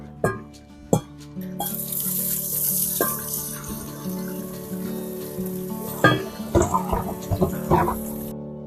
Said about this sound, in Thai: เราก็นำมาล้างทำความสะอาดอีกสักสองสามน้ำค่ะ